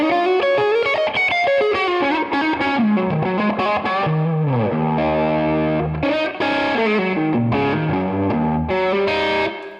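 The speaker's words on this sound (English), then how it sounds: "It's my favorite type of distortion tone where it isn't too overly distorted, it's not fuzzy, it still has a lot of clarity" Gibson Les Paul Custom Centipede electric guitar plays a fluid run of melodic lines and bends through a mildly distorted, clear, unfuzzy tone, loud and continuous with slight chorus-like shimmer.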